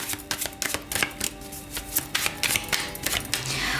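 Tarot cards shuffled during a pick-a-card reading, with quick, uneven bursts of riffling and sliding card noise repeating over a soft, steady musical background.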